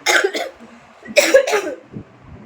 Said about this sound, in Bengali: অনেক কাশি আছে এখনো